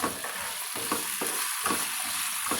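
Ivy gourd pieces fry with dried chillies in a pan, a steady close sizzle broken by regular scraping strokes of a spatula stirring them about every half second.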